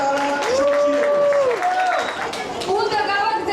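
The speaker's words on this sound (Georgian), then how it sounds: "და კიდევ ერთხელ აპლოდისმენტები ჩვენს პატარა" Audience applause at a choreographic ensemble's solo concert in Stockholm, a steady wash of clapping that fills the whole clip, with tonal sounds and voices ringing out over it.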